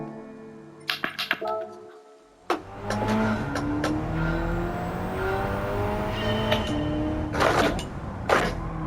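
Race car engine in Gran Turismo 7 running on Comfort Soft tires, revving and braking into a corner, with faint tire noise and sharp transient bursts; someone talks over the steady engine drone throughout.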